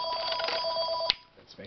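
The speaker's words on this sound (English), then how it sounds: "that's my phone ringing." A phone rings with a steady electronic tone that cuts off abruptly partway through, followed by quiet room noise.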